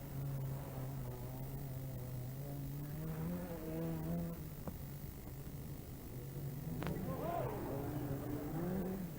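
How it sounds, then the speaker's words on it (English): A Ford Sierra rally car with a replaced gearbox, competing in the 1988 Rally of the Lakes, holds a steady engine drone with shifting pitch, partly under a commentator's voice. "Having changed the gearbox in the Sierra, Bob Fowden is trying hard again"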